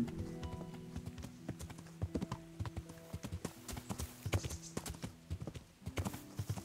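Horse hooves clip-clop in a steady trotting rhythm in the video game Kingdom Come: Deliverance, close and clear, with a faint tonal background underneath.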